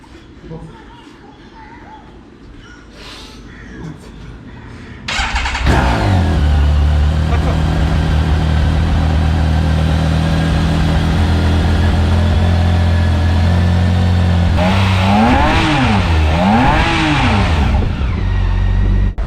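Motorcycle engine being started after three months sitting idle: quiet ambience with birds, then the engine catches and settles into a loud steady idle, followed by two rising-and-falling revs near the end.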